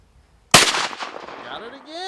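A single loud, close gunshot at a target-shooting session with exploding pop packs, a sharp crack followed by a ringing decay, with people talking just after.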